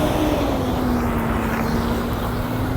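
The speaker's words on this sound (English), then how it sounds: "Big truck." A big truck passes on a street during a walk to work. Its loud, steady roar carries a droning engine tone that slowly sinks in pitch, with no talking over it.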